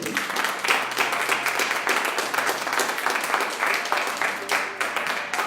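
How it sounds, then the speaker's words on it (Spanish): A church congregation breaks into steady, dense applause after a sermon, many hands clapping together at full strength throughout with a faint murmur of voices underneath. "Denle un aplauso fuerte."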